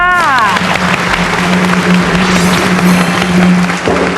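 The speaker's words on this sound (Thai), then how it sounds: "ก็ต้องขอเสียงปรบมือให้กับกูรูรักของเราค่ะ" Studio audience applause on a Thai TV talk show greets a guest expert, a loud continuous wash of clapping with a steady tone running underneath, and a voice briefly audible at the start.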